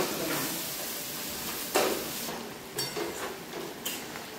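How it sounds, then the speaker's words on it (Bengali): Spice paste frying and being stirred in a pan for a Bengali fish curry, a steady soft sizzle with a few scraping stirs and light utensil knocks, fairly close, no talking. "ভালো করে মশলাটাকে কষিয়ে নিই"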